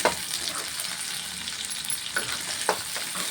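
Small onions sautéing in a pan with garlic, dry chillies and tamarind, with a steady close sizzle and a few sharp stirring scrapes, no voices.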